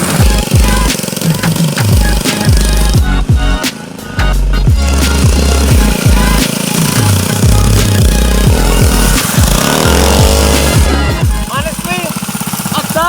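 Electric drift kart driving, a loud close whine with pulsing rhythm that rises and falls as the kart accelerates and slides, with music playing underneath.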